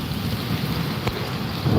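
Steady heavy rain hisses without pause during a thunderstorm with strong winds in Amreli, with a low rumbling undertone and gusty noise building toward the end.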